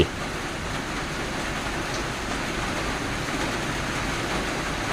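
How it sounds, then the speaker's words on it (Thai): Steady, dense patter of heavy rain drumming on a corrugated zinc roof, continuous and loud throughout with no voices. "โอ้พี่น้องจะลำคาญได้เสียงฝน"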